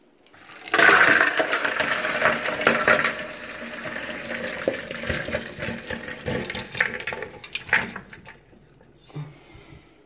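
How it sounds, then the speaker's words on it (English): Water from freshly cooked udon pours and gurgles down a sink drain, a steady rushing flow that tapers off near the end. "so now I'm gonna drain this water"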